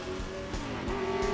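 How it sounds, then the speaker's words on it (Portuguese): Cartoon race cars zoom past one after another, engines whining with a brief tire squeal, each rising and fading quickly over a steady hum, with no voices. "São carros de corrida, isso!"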